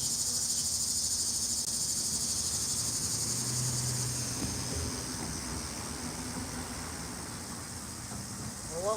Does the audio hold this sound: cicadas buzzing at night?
yes